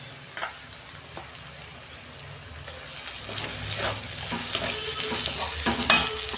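Garlic and ginger fry in oil for a chicken dish, a quiet sizzle that swells louder partway through as more goes in, with spatula scrapes and small pops close by and no one speaking.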